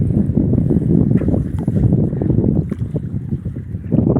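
A boat moving through water in a pond where fox nuts grow, a steady low churning wash and splashing with rumbling wind noise, close and loud, continuous without speech.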